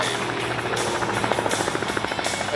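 A Christen Eagle II aerobatic biplane performing at the Cable Air Show, its engine a steady, rough pulsing drone with a rhythmic beat, moderately loud and continuous.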